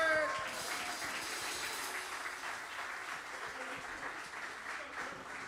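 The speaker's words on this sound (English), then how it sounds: "Give Derek a round of applause." A crowd applauding steadily, dense clapping sustained throughout with a faint voice near the start.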